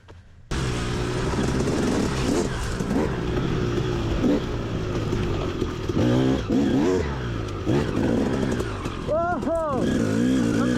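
A motorcycle with a new exhaust revs loudly and close, its engine note rising and falling throughout, with voices over it in places.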